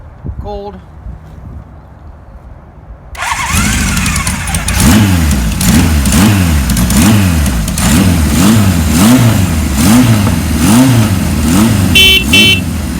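A cold 1978 Kawasaki KZ1000 LTD motorcycle on choke cranks and catches after a few quiet seconds, then runs loud and close with repeated rising and falling revs and a rough, throaty idle between.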